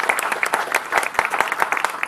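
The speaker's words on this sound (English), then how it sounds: "can I hear a round of applause for our run ambassador, Steve Monaghetti?" A crowd applauds for a running ambassador at an outdoor charity walk event, with steady clapping from many hands close by, lasting throughout with individual claps standing out in a quick, uneven patter.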